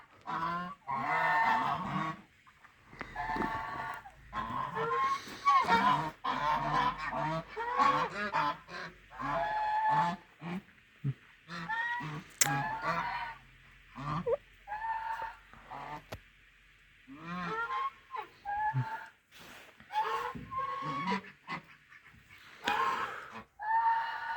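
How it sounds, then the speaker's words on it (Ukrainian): A flock of geese out in the snow honks continuously, many overlapping nasal calls close by in irregular bursts, with no pauses over the whole stretch. "А оці гуси це їхні нащадки."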